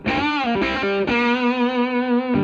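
A sustained, heavily distorted electric guitar chord through a BOSS DS-1 distortion pedal rings out loudly, changing pitch a couple of times before holding steady, with no voices.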